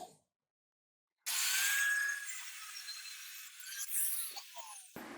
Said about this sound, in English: all we've got left is that one to cut through there